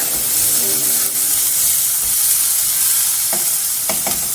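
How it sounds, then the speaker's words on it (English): Onions frying in a pan, a steady loud sizzle and hiss throughout, with a few scraping strokes of a spatula stirring near the end, alone without talk. "I prefer my onions to be golden brown. So I'll let that cook a bit more."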